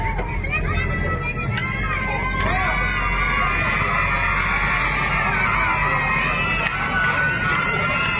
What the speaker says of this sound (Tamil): உங்களுக்கு ஆரவாரம் அதிகமா இருக்கு